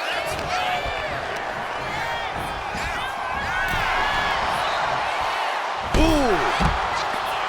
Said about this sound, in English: Jacob Fatu feeding off the crowd, feeding off their energy.